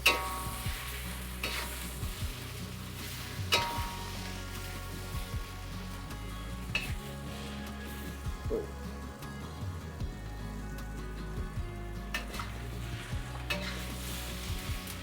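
Rice noodles with beef and scallions sizzle and crackle in a hot iron wok while a utensil scrapes and tosses them in slow, repeated strokes, close up.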